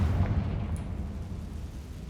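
A Confringo spell blast from the Hogwarts Legacy game: a single deep boom at the start, then a rumbling decay that fades over about two seconds, with no talk.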